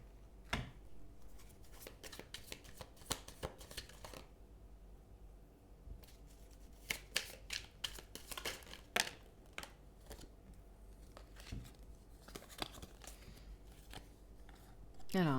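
Tarot cards are shuffled and laid down during a love-focused reading, giving a scattered run of crisp papery flicks and snaps with quiet gaps between them, close and fairly soft.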